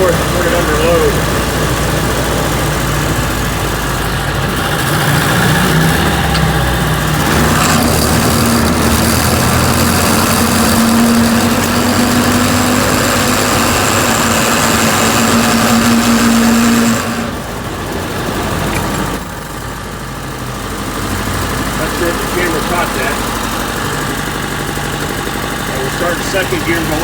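M151A2 military jeep driving with steady engine drone and driveline noise, a continuous rumbling hum with a faint whining tone, loud and close throughout, dipping briefly partway through.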